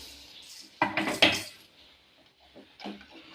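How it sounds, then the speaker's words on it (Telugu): A spoon stirs vermicelli into boiling milk in a metal pot, giving a few clattering scrapes and knocks against the pot, with quieter bubbling in between. "ఇందులో మనం ఈ సేమియా పక్కన పెట్టుకున్నాం కదా దీన్ని ఇందులో వేసుకోవాలి గడ్డలు కట్టకుండా తిప్పుకుంటా పోయాలి"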